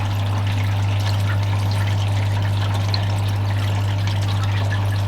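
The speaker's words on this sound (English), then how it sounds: "it's just one pump which just cascades down" Water cascades steadily down through a single-pump aquarium system in an aquascaping shop, a constant close rushing pour over a low electrical hum, with no talking.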